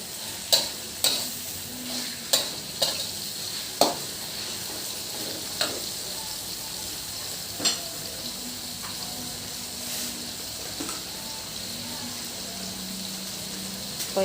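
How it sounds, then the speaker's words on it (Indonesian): Chicken pieces frying in a pan for zuppa soup, a soft sizzle running underneath with sharp spatula clicks and scrapes against the pan, heavy at first and then sparser. "Ini aku masak dulu ayamnya. Hingga setengah matang."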